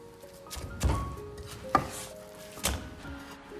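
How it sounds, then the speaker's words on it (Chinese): Pork is chopped with a cleaver on a board for lion's head meatballs, three or four heavy, spaced thuds standing out clearly against a quiet kitchen background. "接下来把切好的肉稍微剁一下，增加肉的粘性"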